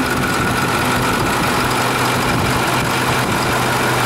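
The 220-horsepower diesel engine of a 2013 Starcraft XL 32-passenger bus idles with its hood open, a steady, close, loud rumbling hum that runs unbroken for four seconds.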